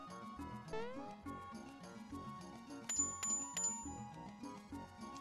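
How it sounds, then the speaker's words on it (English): Mario rings a bell in the SNES game Super Mario RPG: bright metallic chimes ring out around the middle of the clip over bouncy, looping background game music, sustaining briefly before fading. "And then you can press your bell."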